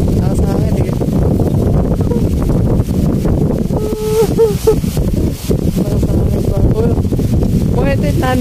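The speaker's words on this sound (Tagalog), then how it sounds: "Sobrang hangin ba? Lakas ang hangin." Strong wind at a beach resort in San Narciso blasts the microphone in continuous loud rumbling gusts, with people talking throughout.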